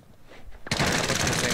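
Sustained burst of automatic gunfire erupts suddenly in a round-based video game shooter, loud and dense with rapid overlapping shots after a brief quiet lead-in.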